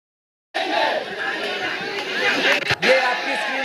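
A large crowd of protesters at Jantar Mantra raises slogans together, a dense roar of many voices that starts abruptly and holds with rising and falling swells, dipping briefly near the end.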